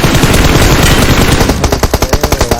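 Dense rattling bursts of automatic gunfire in PUBG Mobile, shifting into distinct rapid rhythmic shots near the end, loud and close.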